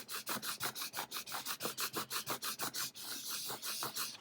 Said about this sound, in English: now I'm going to just use my scraper, and I like to start from the center and just scrape my way out